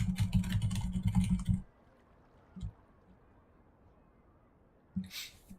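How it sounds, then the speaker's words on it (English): Loud clicky computer keyboard typing during a video game session: a dense burst of rapid clacking keystrokes for over a second, then near quiet with a couple of isolated key clicks, fairly close and without speech. "less clickety clack keyboard, but I fell for the lie that the more loud the keyboard is, the better it is."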